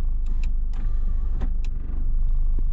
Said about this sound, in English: I'm going to hit the sunroof switch here.